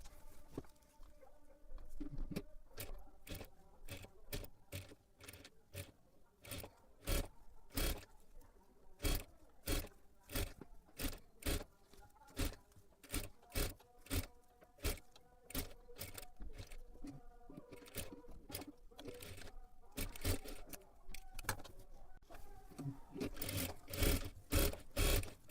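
A sewing machine stitches lace around a blouse neckline, running in repeated short bursts of rapid mechanical clatter with brief pauses, loud and close throughout.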